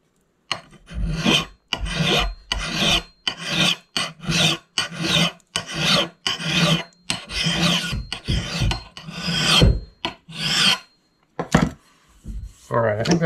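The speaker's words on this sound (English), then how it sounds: "So I'm just going to put this in the vise here and work on it with the file." A hand file rasps along a dollar store axe blade clamped in a vise, with steady back-and-forth strokes repeated about a dozen times, close and loud, then a few lighter scrapes.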